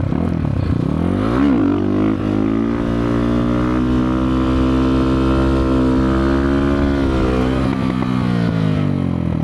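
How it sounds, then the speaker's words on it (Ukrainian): A Kovi Max 300 motorcycle engine revs and holds a steady high drone while riding on the rear wheel, pitch rising then sustained, loud and close, with no talking. "Це найкращий мотоцикл для того, щоб їздити на задньому колесі та вчитись."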